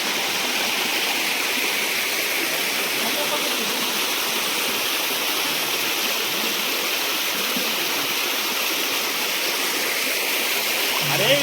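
A forest stream in the Konkan woods flows with a steady, close rush that holds even for the whole stretch, with a brief voice near the end.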